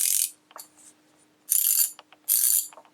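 Ratchet tool clicking in three quick bursts of rapid pawl clicks separated by short pauses and faint single ticks, close and clear.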